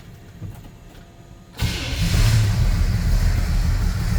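A 1964 Chevrolet C10 truck engine cranks and catches after a quiet start, then settles into a loud, steady rumbling idle close by.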